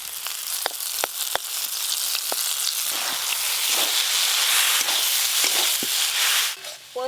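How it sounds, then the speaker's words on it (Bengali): Water spinach greens fry in mustard oil with poppy seeds, a loud continuous sizzle nearby, punctuated by sharp clicks of stirring against the pan. "পোস্ত দিয়ে শাক ভাজা হয়ে গেল"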